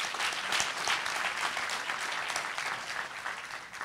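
An audience at a school event unveiling a new grand piano applauds benefactors, a dense, even round of clapping that fills the whole stretch at moderate level with no voices over it.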